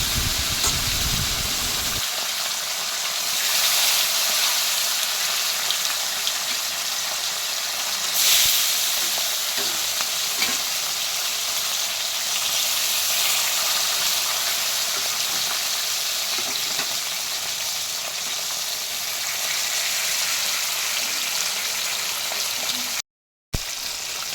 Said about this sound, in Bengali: আবারও ওই তেলে এক এক করে মাছগুলো ফেলে দিচ্ছি